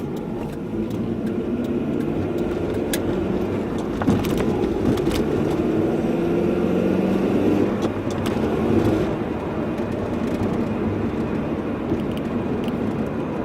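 A car cruises down a wide, fast road at evening, giving a steady interior rumble of engine and tire noise with small bumps and clicks along the way.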